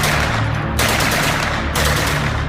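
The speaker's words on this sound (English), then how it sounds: "Gunfire split the morning air." Rifle gunfire in a battle, dense continuous bursts and rattling volleys that surge loud, fade slightly, then surge again, close and harsh throughout with no voices.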